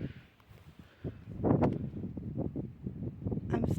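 Gusting wind buffets the microphone outdoors in a spring garden among flowering plum and peach trees, a steady rumbling roar with stronger gusts swelling midway and near the end.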